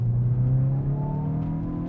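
A 2022 Hyundai i20 N engine revs out hard in second gear, a steady, loud, rising drone that climbs in pitch over two seconds, with no talking over it.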